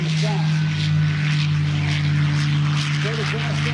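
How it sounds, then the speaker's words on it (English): A P-51 aircraft with Rolls-Royce Merlin engines and short exhaust stacks takes off at an airfest in Santa Maria, California, giving a loud, steady droning engine roar with a strong low hum throughout. "Now when the P-51s take off with the Rolls-Royce Merlin engines, they have short exhaust fans."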